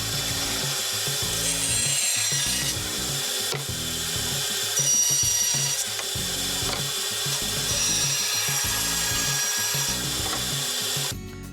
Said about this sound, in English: took it over to the bandsaw and cut out the 2 pieces